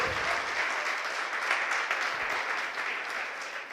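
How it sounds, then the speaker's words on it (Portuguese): A church congregation applauds in a dense, steady wash of many hands clapping together, sustained and even throughout. "Você pode aplaudir o Senhor?"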